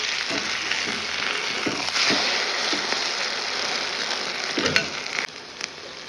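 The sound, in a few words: egg frying with onion in a pan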